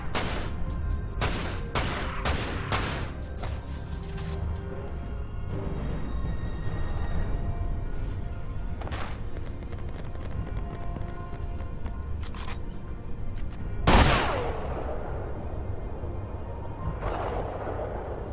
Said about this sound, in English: I like how they put the spin on those bullets